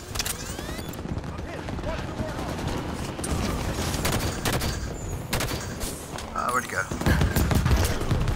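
Bursts of rapid video game gunfire crackle throughout an online Xbox One shooter match, with players talking over voice chat between the volleys.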